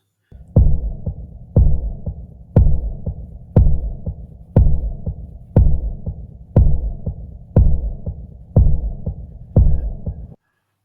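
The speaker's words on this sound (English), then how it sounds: "Let's try one of the horror sounds." An AI-generated horror sound effect: a deep, ominous heartbeat-like throb repeats about every second, each thud followed by a lingering reverberant hum, ten beats in a slow, steady rhythm.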